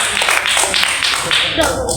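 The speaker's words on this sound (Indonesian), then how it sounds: "Boleh tepuk tangan buat Om Sony." Audience clapping for a guest at a university student talk, a few loud, close bursts of hand claps in uneven rhythm, with a voice speaking briefly over them.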